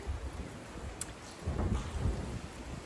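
Rain falling outdoors on a farm in winter makes a soft, continuous wash mixed with gusts of wind. It is fairly faint throughout and swells slightly midway.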